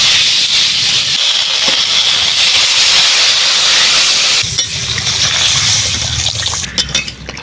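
Water poured into a pan of sizzling fried potato, raw green tomato and ground spices sets off a loud, steady hiss and steam that continues throughout, easing slightly toward the end, with no talking.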